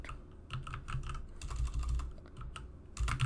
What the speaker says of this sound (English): We're gonna type in show IP NAT